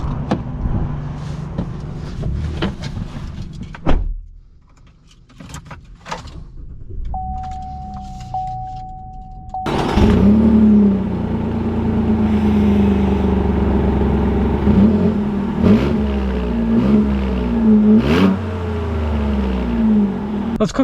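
A 2021 Chevy Colorado ZR2 mid-size off-road truck starts and pulls away, its engine rising loud and close after a short quiet stretch, then a steady driving drone with shifting revs.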